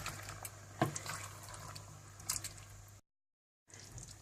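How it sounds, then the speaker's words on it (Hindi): Water is poured into a pan of frying kofta masala, giving a soft, quiet splashing and squishing for about three seconds. A short silent gap follows, then faint liquid sounds resume. "दो मिनट भूनने के बाद आप इसमें पानी डाल दें।"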